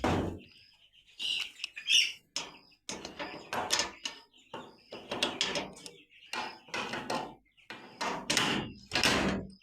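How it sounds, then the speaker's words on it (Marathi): A goat shed door clatters and creaks open in a series of short knocks and rattles, while small birds chirp close by. "हे दार उघड केले मी"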